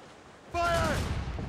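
Cannon fire from ships in an Assassin's Creed Rogue naval battle: a sudden loud boom that rolls on into a sustained rumbling fusillade, with a shouted voice over the blasts.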